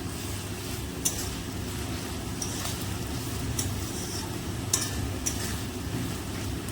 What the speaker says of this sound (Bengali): কিছুক্ষণ এরকম নাড়তে থাকি